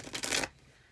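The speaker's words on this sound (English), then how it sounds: "it needed to be shuffled again" Tarot card deck being shuffled, a half-second burst of papery riffling and rubbing up close, then quiet.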